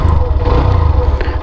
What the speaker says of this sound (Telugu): ఎగ్జాస్ట్ నోట్ ఇది.